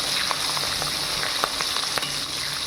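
Onion and garlic fry lightly in a pan, giving a steady close sizzle with scattered soft pops and crackles throughout.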